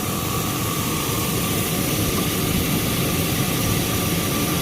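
A car engine idles steadily with the AC compressor clutch engaged, giving a continuous broadband whir and hum that stays even and loud throughout, with no voices.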